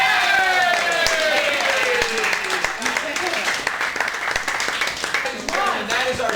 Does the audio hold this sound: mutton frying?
no